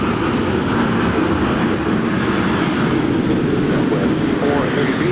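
Boeing 737-700 airliner engines roar at Dallas Love Field on a rainy day, a loud, steady broadband rumble filling the whole stretch without letup.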